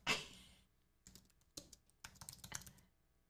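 Rapid keystrokes clatter on a computer keyboard, an opening burst followed by a pause and then quick irregular clusters of taps, close and fairly quiet with no speech.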